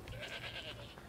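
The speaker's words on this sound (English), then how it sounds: "What is wrong with you goats?" Goats in Assassin's Creed Odyssey give a brief, faint, wavering bleat that stands alone for about a second.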